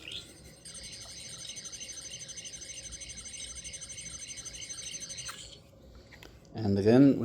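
A Doctor Who sonic screwdriver toy gives out a warbling electronic scanning tone that pulses rapidly for several seconds and then cuts off, followed by a brief burst of handling noise.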